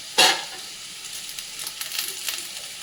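Capsicum and mixed vegetables frying in a pan, a sharp hiss at the start easing into a steady close sizzle with faint crackles throughout.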